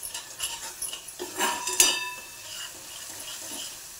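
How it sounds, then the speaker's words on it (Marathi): Cauliflower curry is sautéed in oil in a pan on a fast gas flame, with a soft background sizzle under several sharp scraping and clinking strokes of a utensil against the pan, no voices. "हे चांगलं परतून घेऊ, तेल चांगलं सुटेपर्यंत."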